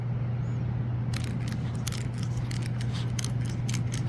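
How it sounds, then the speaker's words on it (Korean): Squeaking, rattling creaks from an Audi A6 speaker grille, a series of short irregular crackling ticks over a steady low hum. "요 스피커 그릴에서 소리를 한번 잠깐 들려드릴게요."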